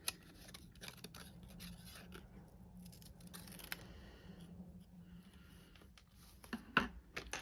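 Scissors trimming a piece of cardstock for a handmade fancy-fold card, soft close snips and rustling, faint and quiet, with a few sharper clicks near the end and no talking.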